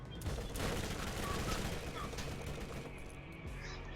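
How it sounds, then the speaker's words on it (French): Gunfire from a shotgun rattles in the Borderlands video game, a dense burst of repeated shots that runs almost continuously and sounds fairly quiet, with no speech over it. "donc le fusil à pompe il me sert à me sortir de la merde comme ça."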